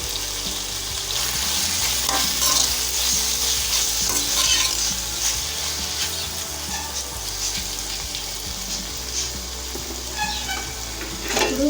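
Amaranth leaves fry in a hot pan, sizzling steadily while a utensil stirs and scrapes through them at close range, with brief clinks and no talking.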